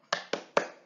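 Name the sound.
accounting clapping chant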